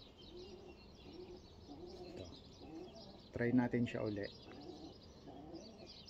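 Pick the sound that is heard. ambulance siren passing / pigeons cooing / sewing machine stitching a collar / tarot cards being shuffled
pigeons cooing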